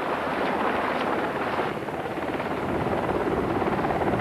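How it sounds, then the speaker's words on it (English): A helicopter from a carrier's squadron flies a rescue training exercise with volunteer swimmers at sea near Hawaii. Its loud, steady rotor and engine roar fills the whole stretch, mixed with wind buffeting and no talking. "As the ship nears Hawaii, the helicopter squadron trains for rescue missions with volunteer swimmers."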